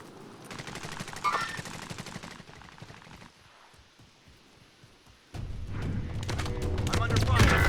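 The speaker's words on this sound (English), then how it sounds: "I'm under fire." Gunfire in the video game Warzone, rapid bursts of automatic fire up close, a lull, then heavy sustained shooting, with players talking over it.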